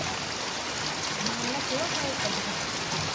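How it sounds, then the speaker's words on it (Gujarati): Steady rain pours down in a monsoon afternoon downpour, a dense continuous hiss with no breaks, moderately loud and alone. "જો આ ધારું જુઓ તમે કેટલો વરસાદ પડે"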